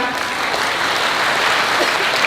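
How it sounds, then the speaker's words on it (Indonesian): Dense, loud audience applause at a Universitas Udayana event, a continuous wash of many hands clapping close by and holding steady throughout. "Boleh kalau mau tepuk tangan."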